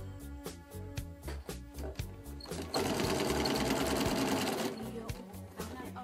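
A sewing machine stitches binding strips in yellow thread, first in short rhythmic bursts of close, rapid clatter, then in a longer continuous run, then slowing back to brief bursts.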